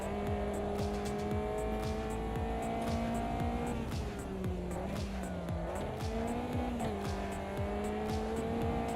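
A racing car in a sim racing game, engine droning steadily with shifting pitch while the overheated rear tyre squeals beneath it, continuous and close throughout.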